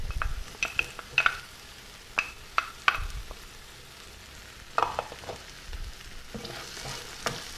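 Peppers and garlic sautéing in a pan while making aqua pazza with snapper: a low, soft sizzle broken by sharp clicks and scrapes of a utensil stirring, with a few louder taps.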